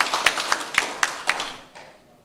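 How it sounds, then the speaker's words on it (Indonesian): A handful of claps ring out in a quick, even series from the audience at a public debate for regent and vice-regent candidates in Nias, then the clapping trails off into quiet. "Beri tepuk tangan semangat kepada para paslon."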